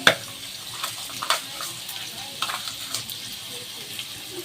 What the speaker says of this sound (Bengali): এখন আমি পেঁয়াজটা একটুখানি যতক্ষণ আর লাল লাল ভাজছে ততক্ষণ একটু সাতলাতে থাকবো